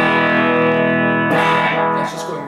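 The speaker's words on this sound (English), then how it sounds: "So here's the clean tone on the guitar." An electric guitar's clean tone played through an amplifier with a little echo, a sustained harmonic-rich note ringing out, then a fresh strummed attack that decays with a slight echo tail, loud and close.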